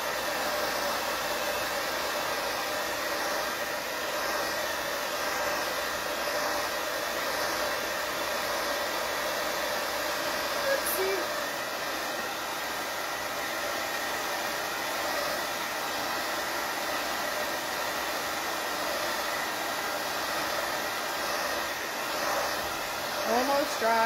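A hair dryer blows hot air over paint on a Starry Night–style painted pumpkin, a loud, constant airy roar that holds steady for the whole stretch.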